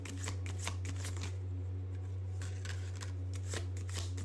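Tarot cards being shuffled and drawn, a run of crisp riffling flicks and snaps repeating through the whole stretch, close and clear over a steady low electrical hum, with no talking.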